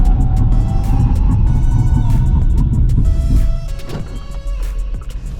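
A Cupra Born braking hard on a test track: loud steady road and motor rumble from inside the cabin that drops away and thins out as the car slows, with a faint tonal whine over the top.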